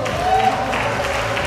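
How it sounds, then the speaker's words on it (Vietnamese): An audience at a Vietnamese beauty pageant coronation claps in a steady wash of applause, fairly loud, with an amplified voice over it. "xin quý vị dành tràng pháo tay thật lớn cho người cùng điều khiển chương trình hôm nay, MC ca sĩ Đỗ Thi Như"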